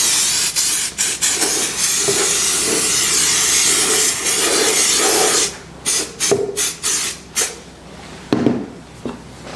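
Mold release is sprayed onto a polyethylene resin mold in a woodturning shop, first a long continuous close hiss, then a series of short sharp bursts with brief pauses between.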